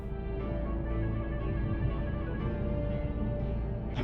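Music plays steadily at low volume from a car radio in the video game Paratopic, a muffled mix with a constant bass hum beneath it, heard from inside the car.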